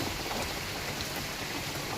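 Steady rain falls in a flooded colony street, a constant soft hiss of drops on surfaces with no pauses, moderately faint and even.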